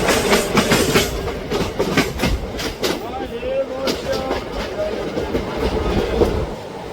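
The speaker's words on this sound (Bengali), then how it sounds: "এখন যে ট্রেনের সাথে আমাদের দেখা হয়ে যাবে সেটা হলো train number 12041 Howrah two new Jalpaiguri শতাব্দী" An Indian express train rolls past at Tarapith Road station in West Bengal, its wheels clattering in a continuous rhythmic clickety-clack, loud and close, with a faint squeal as it goes by.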